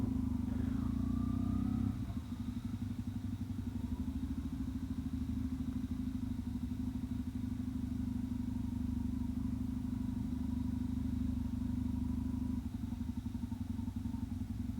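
A motorcycle engine runs steadily throughout, a constant low drone with a brief shift near the start, nearby and fairly loud.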